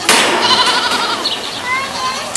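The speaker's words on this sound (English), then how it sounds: "That's a goat." A goat bleats at a petting zoo, a wavering cry close by, heard alongside children's voices and adult talk in the background.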